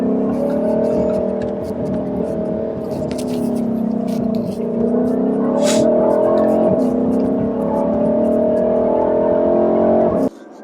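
A Ford Shelby GT500 fitted with a JLT cold air intake drives toward a highway, its engine holding a loud, continuous drone that swells slightly in pitch before cutting off at the end.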